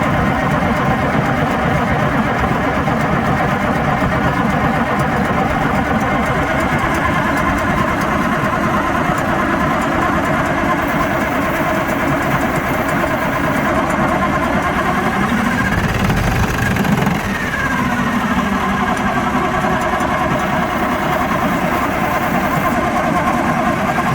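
An old engine that sat for three years runs at a steady, loud idle, with a continuous low rumble and vibration. A faint tonal shift comes midway, and possible voices sit faintly in the background.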